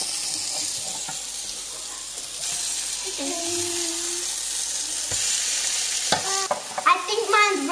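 A pancake fries in a pan with a continuous hiss and sizzle, joined by a brief tonal clink or squeak and some scraping near the end, and a few faint voices.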